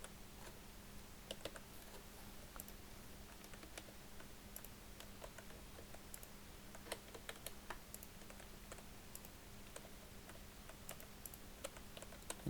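Typing on a computer keyboard while entering data into an Excel spreadsheet: faint, irregular clicks in quick runs, close and quiet over a low steady hum.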